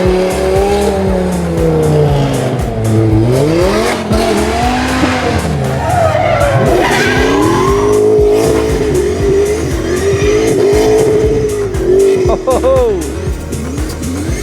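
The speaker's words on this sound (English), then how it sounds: "some guy doing donuts outside here as well" A car does donuts outside a Porsche display at a car event, its tires squealing in long wavering howls over a revving engine, loud and continuous, with people talking and exclaiming.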